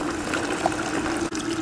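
Water runs steadily through a blue bowl gold concentrator, a continuous close trickling and gushing flow with no talking.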